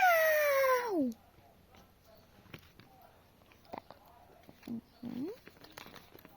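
A single loud, drawn-out cat meow falls in pitch at the start, followed by quiet shuffling and soft taps.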